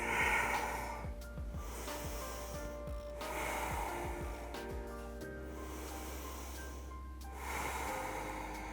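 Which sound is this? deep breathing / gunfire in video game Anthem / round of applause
deep breathing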